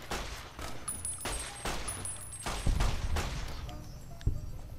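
Gunfire in Fallout New Vegas Old World Blues, fighting a lobotomite: a run of repeated, fairly evenly spaced shots, moderately loud and close, with a sharper final blast.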